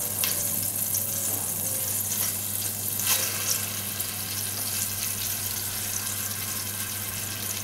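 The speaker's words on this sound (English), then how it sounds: "I'm going to put the rabbit pieces into brown" Rabbit pieces browning in a hot pan give a steady, close broadband sizzle, with a few brief splashes and scrapes over the constant hiss and a low background hum; no one speaks.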